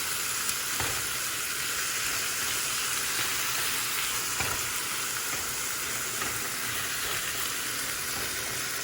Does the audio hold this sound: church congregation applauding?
no